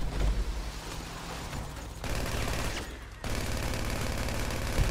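Continuous gunfire crackles through a GTA Online match, a busy, dense barrage that drops briefly before resuming at full strength, with no talk.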